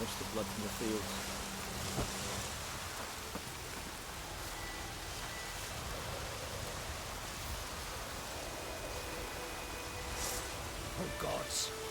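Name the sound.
rain falling in The Witcher 3 video game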